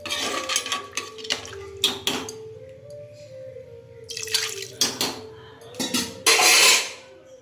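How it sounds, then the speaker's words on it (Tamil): Masala curry with added water being stirred in a pressure-cooker pot, giving scraping and clinking bursts of a utensil against metal with wet sloshing, close and fairly loud, with no voices. "இப்போ நல்லா கிண்டிக்கோங்க, அப்போ தான் மசாலா வந்து தண்ணியில் சேரும்."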